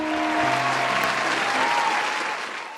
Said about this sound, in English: Insert crowd applause.